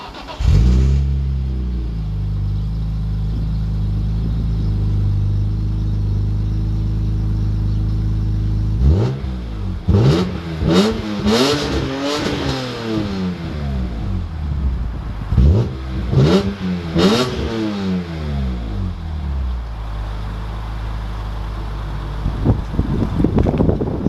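A BMW E46 M3 is driven with a steady low engine drone at first, then gives several loud revs that sweep up and down in pitch. Wind noise runs throughout, and there is no talking.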